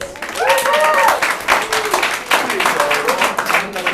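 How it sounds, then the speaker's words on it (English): Steady applause from an audience, many hands clapping together, with voices and cheering mixed in throughout. "Clap your hands if you're a fan of Charles Dickens."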